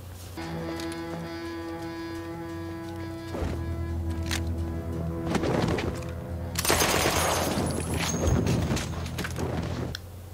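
Gunfire from a Peaky Blinders episode crackles in bursts over a sustained musical score, the shots growing denser and louder in the second half before cutting off abruptly.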